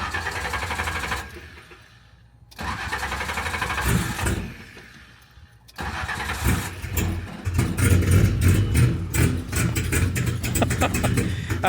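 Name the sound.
car engine starting and running rough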